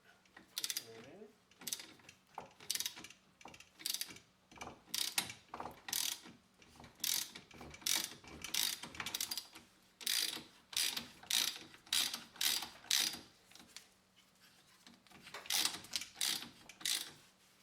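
17 mm socket on a ratchet tightening a car drive shaft, a long series of quick, crisp clicking bursts in uneven rhythm, close and fairly quiet with short pauses between strokes.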